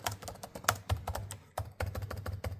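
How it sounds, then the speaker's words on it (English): Typing on the keyboard of an MSI Thin 15 gaming laptop gives close, rapid, slightly rattly key clicks in uneven bursts with a short pause midway, and no voices. "The Thin 15 is fine to type on, but it feels a bit rattly."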